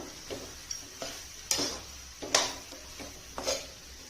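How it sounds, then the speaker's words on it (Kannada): Cooked rice is stirred and scraped with a spatula on a hot tawa for street-style tawa pulao, giving about five distinct scraping strokes over a soft, steady sizzle, close and fairly quiet with no talking. "ಅನ್ನ ಹಾಕಿದ್ಮೇಲೆ ಚೆನ್ನಾಗಿ ಮಿಕ್ಸ್ ಮಾಡಬೇಕು."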